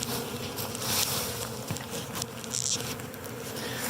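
Bees buzz in a dense, steady drone just after a hive box from a Flow Hive is shaken, with a continuous near hum and brief higher-pitched whines passing close by.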